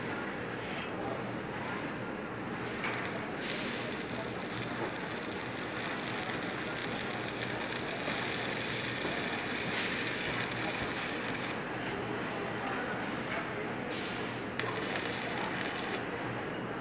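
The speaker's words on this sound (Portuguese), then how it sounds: "Mas vamos continuar soldando aqui." Welding on 14-gauge steel tubing during a repair job: a steady, dense crackle and hiss that runs continuously at even loudness, close up, with no talk over it.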